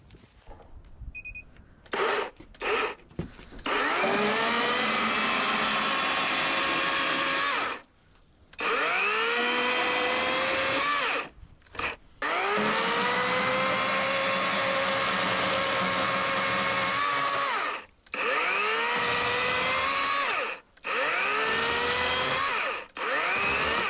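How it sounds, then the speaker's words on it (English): A chainsaw roars in repeated long bursts, engine pitch rising and falling as it bites into rotten wooden stairs during demolition, with brief pauses between cuts; loud and close. "I've got a chainsaw this time."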